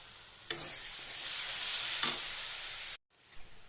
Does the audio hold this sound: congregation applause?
no